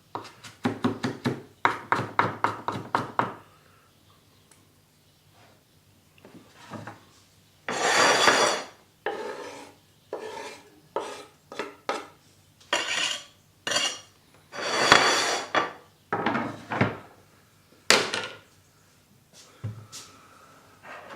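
A kitchen knife chopping ingredients for a hot horseradish and chilli sauce on a cutting board: rapid runs of crisp, close chops separated by pauses, fairly loud and with no talking.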